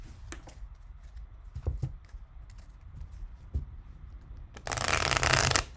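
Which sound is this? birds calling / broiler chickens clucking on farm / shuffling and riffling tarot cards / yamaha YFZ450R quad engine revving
shuffling and riffling tarot cards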